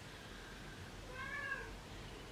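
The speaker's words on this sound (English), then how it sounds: "My cat's going crazy." A cat lets out a single faint, drawn-out meow in a quiet room during a full moon, with a low steady background hum and no talking.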